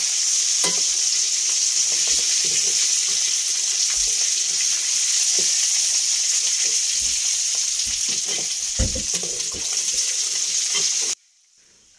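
Fish frying in masala over an open fire in the middle of the sea: a loud, steady sizzle that runs without a break, with occasional stirring clicks, then cuts off abruptly near the end.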